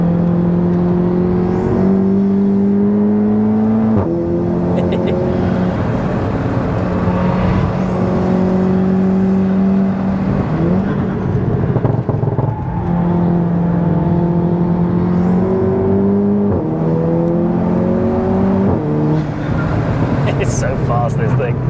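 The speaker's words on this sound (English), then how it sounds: "So I think we'll get it fired up, get some heat in the engine, and go for a session." A modified MK7 Volkswagen Golf GTI Clubsport making 506 bhp, its engine loud and close as it accelerates hard on a race track, the revs climbing repeatedly through gear changes without pause.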